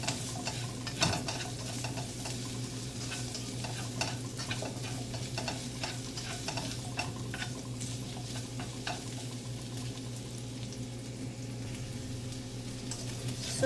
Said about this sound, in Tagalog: Igisa natin siya ng 2 minutes.